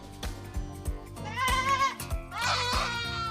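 Black goats on a farm bleat in loud, wavering calls, two strong cries standing out over rhythmic background music.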